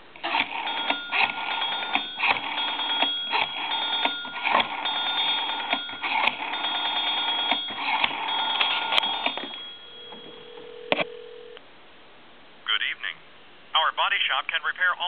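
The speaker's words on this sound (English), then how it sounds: "I'm going to call a time and temp number" A Western Electric Princess telephone on a regular line gives dial tone and a quick run of dialing clicks, then a ringback tone before a recorded time and temperature announcement begins.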